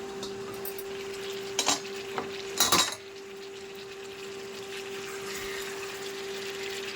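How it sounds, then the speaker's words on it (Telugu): Stuffed eggplants are gently turned in hot oil in a pot, giving a low sizzle under a steady hum, with a few sharp utensil clanks and scrapes clustered near the middle. "కొంచెం స్లోగా టర్న్ చేసుకుందాం, ఎందుకంటే వంకాయ మధ్యలో ఉన్న స్టఫ్ బయటకు వచ్చేస్తుంది."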